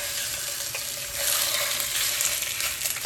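Casing-free sausage meat sizzles steadily in hot olive oil in a pan, a dense continuous frying hiss with faint scraping and clinks, close and without talk.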